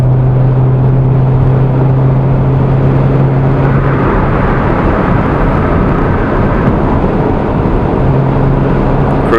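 Honda S2000 fitted with a Milltek dual exhaust cruising at a steady highway speed of about 80, giving a loud, constant broadband road and engine roar with a low, even tone and no voices.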